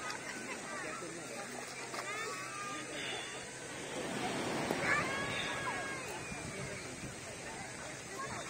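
A cat meows a few times, faint and intermittent, outdoors by the sea on a summer day on the Izu coast, with people talking and background murmur throughout.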